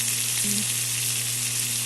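Two medium-sized tomatoes hit fried garlic in a pan for dal tadka, giving a steady, dense sizzle that holds close and even with a low background hum and no talking.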